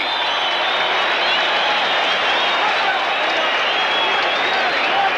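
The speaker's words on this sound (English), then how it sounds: "The crowd here at Madison Square Garden likes it." A boxing crowd at Madison Square Garden applauds and cheers after a round, a dense and steady roar of clapping that fills the arena and holds at full strength from start to finish.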